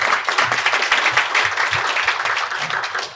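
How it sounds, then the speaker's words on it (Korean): An audience at a Korean natural gas forum applauds to welcome a panelist. The clapping is steady and sustained, with many hands at an even level for several seconds. "큰 박수로 환영해 주시기 바랍니다."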